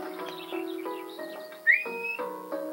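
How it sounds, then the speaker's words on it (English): Player character whistling for a farm dog in the farming game A Wonderful Life, a series of short melodic whistled notes in a quick rhythm, with one sharp rising whistle standing out loudly near the end. "if you hit R once, it'll whistle for your dog"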